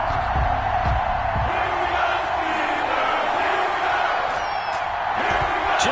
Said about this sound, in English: This crowd is ready as their guys get set to match up between the Philadelphia Eagles and the Pittsburgh Steelers.